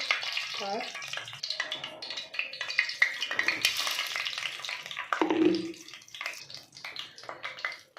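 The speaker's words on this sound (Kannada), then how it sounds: "ಶಾಜೀರಾ ಚೆನ್ನಾಗಿ ಫ್ರೈ ಮಾಡ್ಕೋಬೇಕು." Shahi jeera frying in hot oil in a kadai, a steady close sizzle and crackle running throughout with some stirring and clinks, while a voice speaks over it.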